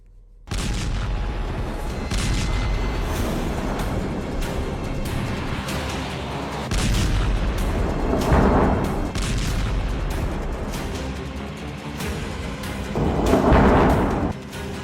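Drone strike explosions hit a multistorey building in Kyiv at night: a loud, sustained rumbling roar with repeated booms and two heavier blasts swelling out of the din.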